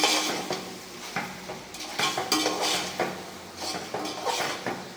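Food fries in a large pan while a utensil stirs and scrapes against it, rhythmic metallic scraping and clinks over a low sizzle, close and fairly loud.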